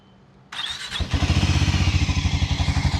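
A Harley-Davidson X440 motorcycle engine is started: a brief starter whir, then the engine catches and settles into a steady, loud, rhythmic idle from the exhaust, close by, with no talking.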